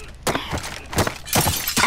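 Glass panes shattering in the Call of Duty Warzone game, several sharp close breaks in quick succession with crunching debris, loud and without speech.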